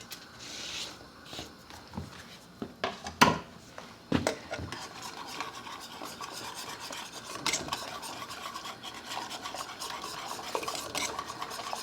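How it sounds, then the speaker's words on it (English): Chopped chocolate melting in a saucepan is stirred constantly over medium-low heat, a close, soft scraping and rubbing of a spoon against the pan with a few louder knocks early on, steady and without speech. "Till this is melted, I'm going to stir this constantly at about medium-low"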